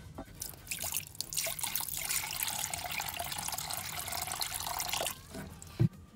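Water is poured into a reptile's water bowl as a steady, close trickle for about five seconds, ending with a small knock.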